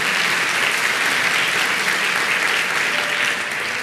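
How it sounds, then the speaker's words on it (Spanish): A church congregation claps together in sustained, even applause, a dense wash of many hands that eases slightly toward the end. "dale un aplauso al Señor."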